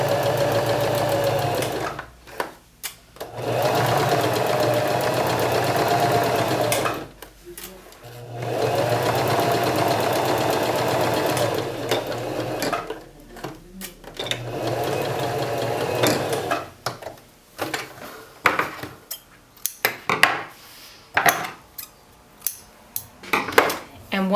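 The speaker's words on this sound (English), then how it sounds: "Go ahead and sew in the groove." Sewing machine stitching a plain seam, a fast whirring run in a few bursts separated by pauses, followed by scattered clicks and handling noises, with a person talking quietly.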